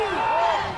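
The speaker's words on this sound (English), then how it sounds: "Listen to the crowd." Crowd roaring at a 1998 Tier 3 Alberta provincial high school football championship game, a sustained loud swell of cheering and yelling voices lasting under a second.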